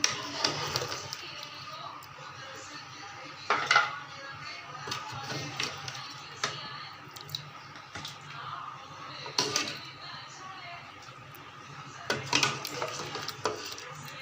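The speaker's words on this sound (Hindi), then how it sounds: "अब हम इन बर्तन में निकालते हैं, आपको दिखाते हैं।" Cooked beef trotters (paye) being served into dishes: metal utensils clink and scrape against pots and bowls in scattered, irregular taps, close and fairly quiet.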